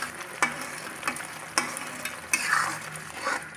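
Spice masala sizzling and frying in oil for a chicken curry, a steady crackling hiss with a few sharp stirring clatters against the pan, close and moderately loud.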